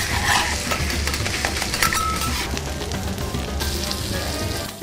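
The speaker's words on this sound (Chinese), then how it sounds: "每只700公克的新鲜活龙虾，虾肉朝上，铁板焖煎蒸熟。" A live Boston lobster of about 700 grams sits meat side up on a hot teppanyaki griddle, giving a loud, dense, continuous sizzle with a few faint metallic clinks mixed in.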